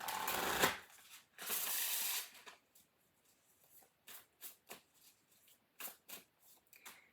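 Spellcasting oracle cards being shuffled close up: two long riffling bursts followed by a run of short, soft card taps and slides, with no talking.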